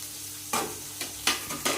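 Onion and green chilli frying with turmeric in a pan, a steady close sizzle broken by three or four scraping stirs of a spatula.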